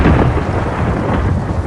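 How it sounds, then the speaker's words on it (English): Heavy rain and a rumbling thunderstorm in the Mortal Kombat 1 video game, a loud dense wash of downpour with deep thunder rolling throughout, no voices. "It's raining, storming."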